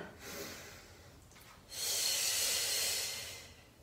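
Slow, audible breaths in and out during a Pilates mat fundamentals exercise, a softer breath followed by a longer, louder airy exhale, close and clear with no talking.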